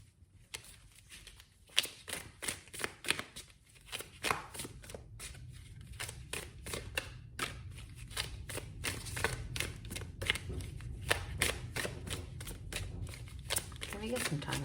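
Tarot cards being shuffled, a close rapid flurry of papery riffles and taps in quick repeated bursts, running continuously under soft background noise.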